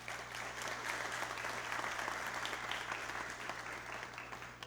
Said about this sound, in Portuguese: Podemos aplaudir essa família também?